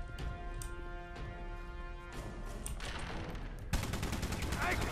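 A big gun fires in the shooter video game Rogue Warrior, a rapid burst of loud gunfire that grows denser and heavier toward the end, set over a steady game soundtrack.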